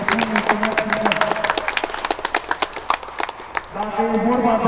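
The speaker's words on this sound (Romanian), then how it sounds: "aș vrea ca noi, stafful clubului, să îi aplaudăm pe părinți" Club staff clapping for the parents at a youth sports club's Christmas training session, sharp individual claps in a loose burst, with people speaking over and around them before talk resumes at the end.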